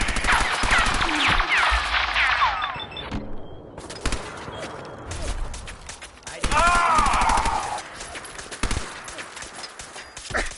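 Robot gunfire in Fallout 4: loud bursts of rapid shots and impacts, broken up by metallic whirring and clanking, with a pause midway and then a second volley mixed with electronic sweeps.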